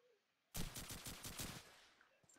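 Gunfire in a three-versus-two video game match, a sudden rapid burst of automatic shots after near silence, loud and close, trailing off into a fading echo.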